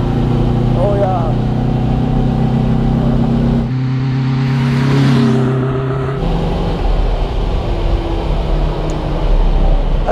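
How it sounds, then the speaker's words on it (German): A 1958 Porsche 356 A's 1600 cc flat-four engine drones and revs loudly and continuously, a deep throaty rumble that swells midway before settling back, with voices faintly underneath. "da hinten tun ja 4-Zylinder Boxermotor ihre Arbeit mit 1600 Kubik"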